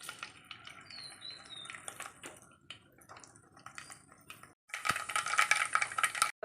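Mustard seeds crackle and splutter in hot sesame oil for a pickle, scattered sharp pops at first, then a sudden louder burst of dense sizzling spatter close up.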